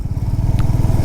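A Honda CB350 RS motorcycle engine on a Delhi to Sikkim road trip runs under engine braking, giving a close, steady stream of rapid low thumping pulses with no talking over it.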